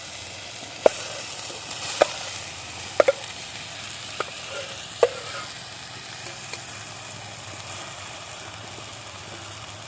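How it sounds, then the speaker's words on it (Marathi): Potatoes sautéing in a pan outdoors, a soft continuous sizzle under steady background noise, with a handful of sharp utensil clicks as they are stirred. "आता मस्त बटाटी परतवून घेऊया"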